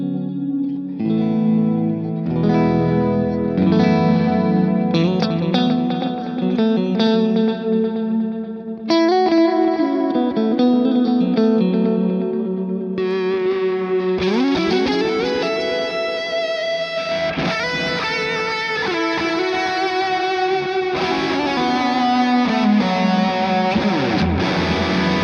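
Electric guitar played through an Orange Baby Range solid-state amp head set to high gain, distorted chords and sustained notes ringing out in a continuous riff with echo, loud and alone without talking.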